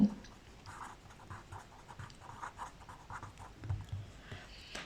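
Pen or chalk scratches out numbers during a math lesson in a quiet room, producing soft, irregular strokes and taps at close range, faint and steady.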